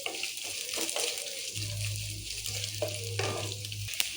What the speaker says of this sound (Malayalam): തേങ്ങയൊക്കെ ഇട്ട് കൊടുക്കാം. നല്ലോണം വഴറ്റി വന്ന്